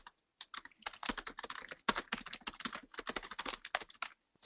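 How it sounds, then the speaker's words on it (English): Rapid, uneven clatter of keys on a computer keyboard, close and fairly loud, with short pauses between bursts and no voices. "Sorry for everyone having to listen to me type."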